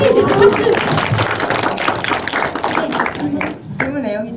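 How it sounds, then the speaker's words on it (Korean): A lecture audience breaks into brief clapping before a question session, a short burst of applause mixed with talk that tapers off quickly. "박수"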